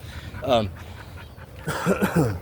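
Dogs pant and whimper at close range in two short clusters of breathy, whiny sounds, the second longer and louder, with no words spoken.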